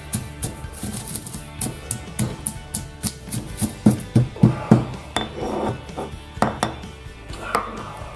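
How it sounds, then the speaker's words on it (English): Toasted spices pounded into powder in a mortar, a run of sharp, rhythmic knocks and grinding scrapes close by, strongest in a cluster of heavy blows midway, with no talk. "into the mortar, and we're going to ground them into powder"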